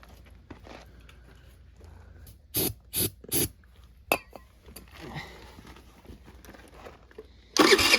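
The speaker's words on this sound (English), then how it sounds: "Let's just give it a little spray and see what it does." Three short hissing spray bursts in quick succession, then a single brief spritz, and finally a longer, louder spray burst at the end, all close by.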